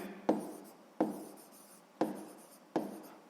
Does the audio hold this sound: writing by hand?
yes